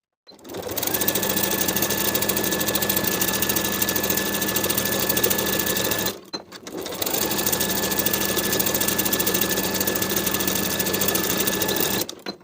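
A sewing machine stitches seams in fleece pajamas, two long steady runs of rapid mechanical whirring with a short pause between, close and loud with no talking.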